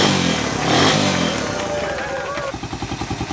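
A Suzuki Raider 150 motorcycle engine runs steadily right after its carburetor was cleaned, a close, loud idle with a rising whine partway through, settling into an even pulsing rhythm at the end.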